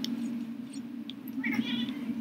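A house cat meows several times, close by, over a steady electronic hum of Crash Bandicoot game music.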